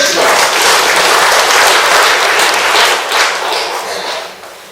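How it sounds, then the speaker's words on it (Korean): Loud, close applause from the audience at a poetry book launch, a dense burst of clapping that holds steady and then tapers off toward the end. "좋은 박수 보내주시기 바랍니다"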